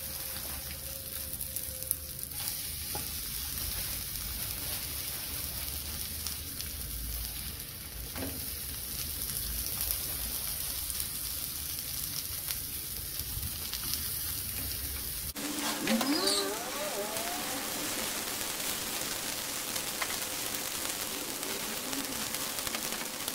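Liver wrapped in caul fat frying in a hot pan, a steady close sizzle and crackle running throughout, with a sharper burst of spitting in the last stretch.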